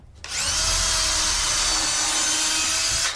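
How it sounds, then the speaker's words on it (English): A power drill pre-drills screw holes in wood for a space-saving table build, whirring loudly and steadily for about three seconds before winding down. "so now we pre-drill."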